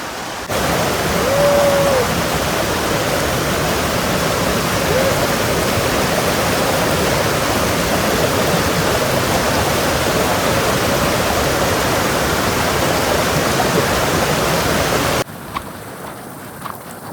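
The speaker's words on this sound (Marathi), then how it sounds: "इथून असतो धबधबा इथे खाली." A waterfall at Kondane caves near Karjat roars as a loud, steady broadband rush of falling water, close by and continuous until it cuts off near the end.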